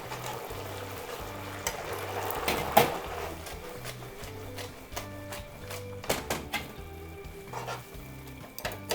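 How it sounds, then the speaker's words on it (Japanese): Nameko mushroom garlic butter pasta sizzles in a pan while being stirred and tossed, with a steady soft frying hiss and scattered scraping and clinking from the utensil. "で最後にバターで混ぜ合わせて、でもうバターが溶けたら盛り付け入っていきます。"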